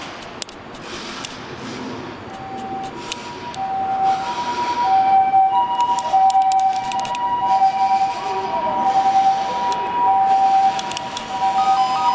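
An ambulance siren on an emergency run to a fire at a waste disposal plant wails steadily in a rising and falling pattern, loud and nearby over a noisy background, with occasional sharp clicks.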